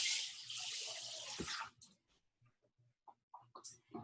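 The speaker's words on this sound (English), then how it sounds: "I'm going to get a bowl with some water in it." Tap water runs into a bowl in a kitchen during a cooking class. It is a brief steady stream lasting about a second and a half, then stops, and quiet talking and small kitchen noises follow.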